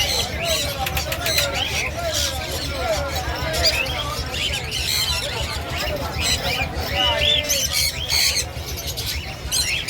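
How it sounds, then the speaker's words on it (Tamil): Small birds for sale at the Pallavaram Friday market squawk and chirp constantly in a busy crowd. Nearby voices and market bustle run underneath. "குட்டி குட்டி அனிமல்ஸ் இல்லை பேர்ட்ஸ்"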